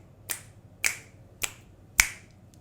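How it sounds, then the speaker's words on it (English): Four crisp finger snaps around a Blue Yeti microphone in omnidirectional mode, evenly spaced about half a second apart, close and clear against a quiet background. "I'll snap around the microphone."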